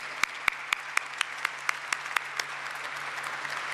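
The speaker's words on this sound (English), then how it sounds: "May I kindly request you all for a huge, loud round of applause" Applause at the stock listing ceremony for P.N. Gadgil Jewellers Limited, with a few sharp, distinct claps at first that thicken into a steady, moderate clapping from a crowd a little way off.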